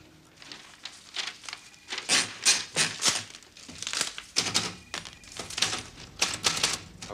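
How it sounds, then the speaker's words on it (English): Manual typewriter keys clacking in quick, uneven bursts of strikes, close and crisp with brief pauses between runs, alone without talk, in an office at a police station. "You type faster than me anyway."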